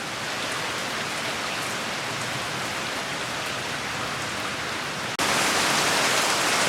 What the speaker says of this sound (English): Raining a little bit harder now.